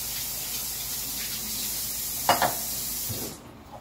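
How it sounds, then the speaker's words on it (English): Food being rinsed under a running kitchen tap for cold noodles with vegetables and rotisserie chicken, a steady broadband water hiss with a couple of brief splashes near the end before the flow cuts off. "I'm gonna rinse this real quick."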